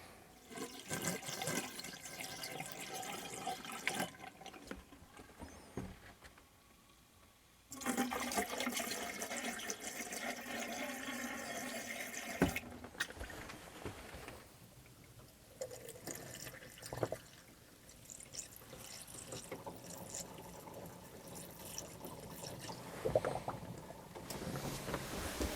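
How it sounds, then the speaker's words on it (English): Liquid poured and draining in the drains and toilet of a GMC motorhome during winterization: gurgling, flushing water and drips in several bursts separated by short quiet gaps, close and moderately loud. "I'm going to put it in all the sink drains, so the traps have some antifreeze in them."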